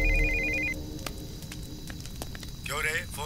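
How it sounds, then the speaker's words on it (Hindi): A telephone rings with a brief electronic trill, followed by a shout and a scene from a Hindi-dubbed action film. "Phone sir."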